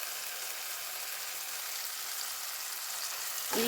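Ginger garlic paste sautéing with tomatoes in a pan for a crab curry, a steady, even sizzle throughout, close and moderately loud, with a brief clatter of stirring near the end.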